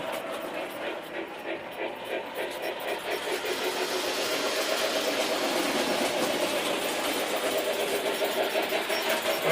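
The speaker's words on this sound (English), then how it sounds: "Let's run the train." A model train runs along its track with a steady rhythmic mechanical clatter and motor whir that grows slightly louder and stays continuous throughout.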